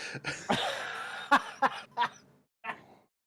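A run of harsh coughs, several sharp bursts spaced unevenly, then a final softer cough after a short pause, close to the microphone.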